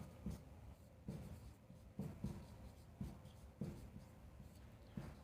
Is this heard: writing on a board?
yes